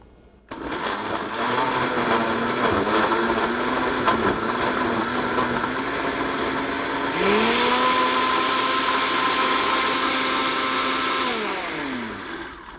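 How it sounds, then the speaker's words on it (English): A blender whirs steadily as it purees papaya, mango and orange into a thick smoothie, starting on low and then jumping to a higher-pitched speed partway through, loud and close with no talking. "Turn my blender on."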